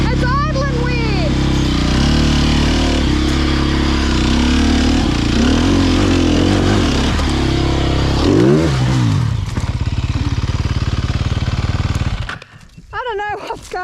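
Enduro motorcycle engine idles unevenly up close, its revs rising and sagging in irregular surges with clattery mechanical noise, before cutting out near the end.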